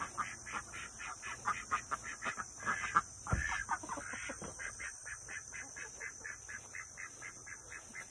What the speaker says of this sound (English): One of them ugly chickens.